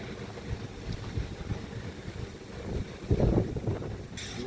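Wind gusts blow outdoors at night, a steady low rumbling buffet against the microphone that swells into a louder gust near the end.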